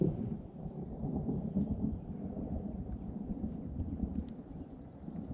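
Low thunder rumbles steadily after a passing storm on a ranch, with a broad rolling roar that holds through the whole stretch at moderate loudness, and no voices.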